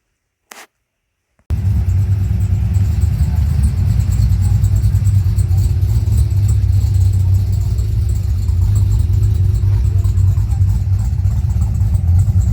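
Chevrolet ZR2 with a swapped LS3 V8 exhaling through an X-pipe and twin Borla Pro XS mufflers, a deep steady idle rumble that begins after a brief blip and holds loud and close.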